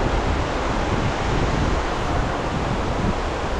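A strong water current and waves roar steadily where fishermen are setting a net. The loud, continuous rushing wash has no break and no voices.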